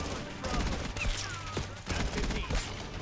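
Fastest-firing SMG in Black Ops 6 held on full-auto, giving dense, rapid bursts of gunfire that come in waves across a few seconds, loud and close, with brief gaps between bursts.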